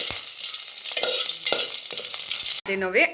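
Loud continuous sizzling of a tempering of spices in hot oil for curd rice, with a few stirring scrapes, ending in a brief abrupt burst of crackling.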